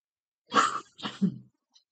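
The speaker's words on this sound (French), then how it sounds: "On réchauffe la gorge, voyez, et ça me fait tousser." Two short, harsh coughs close to the listener, one right after the other, then silence.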